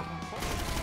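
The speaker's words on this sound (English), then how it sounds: "I hear the gunshots." A burst of rapid gunfire from the GTA 5 video game cuts in partway through, loud and dense as it fills out the short moment.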